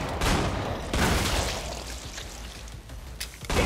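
Rapid gunfire from a Gunslinger's weapons in the Killing Floor video game, with dense, loud, overlapping shots and booming bursts filling the whole stretch, no voices.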